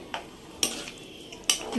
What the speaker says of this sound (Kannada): ಈಗ ಒಂದು ಸತಿ ಮಿಕ್ಸ್ ಮಾಡಿ